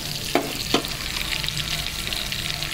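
Chicken 65 pieces deep-frying in a pan, a constant bubbling sizzle up close, with two quick clatters of the pieces being turned early on.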